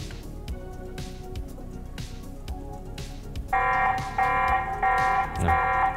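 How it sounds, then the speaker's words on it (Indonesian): A TP-Link Tapo C200/C100 security camera sounds its motion-triggered alarm: after a few seconds of low background hum, a loud pulsing siren starts, repeating in regular bursts of about half a second. "tadi barusan dia mendeteksi gerakan dan alarmnya nyala"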